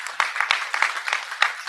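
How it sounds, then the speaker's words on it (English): Scattered audience clapping for a pastor during a Mental Health Week church Q&A, a loose spread of individual claps at moderate level. "Give him a clap for putting together this week."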